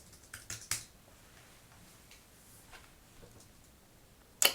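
A burst of quick computer keyboard keystrokes types a search query, a few close clicks at the start, faint scattered taps after, and one more sharp strike at the end.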